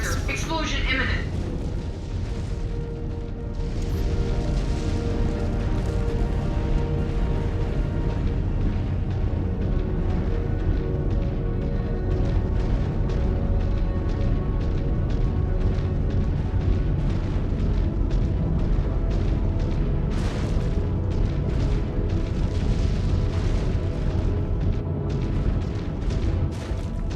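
Reactor explosion of a mech in MechWarrior 5: Clans, a dense, sustained roar of booming blasts and rumbling debris filling the whole stretch, with a sharp burst near the start and further impacts layered over the din.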